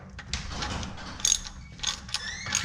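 Ratchet with a 15mm socket tightening the oil drain plug on a C8 Corvette, making a close, rapid run of metallic clicks in short bursts with a faint background hum.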